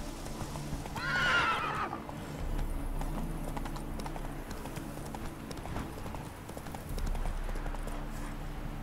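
Roach, a horse in the video game The Witcher 3, gives a loud whinny near the start over a steady game backdrop of low hoof clatter and ambient drone.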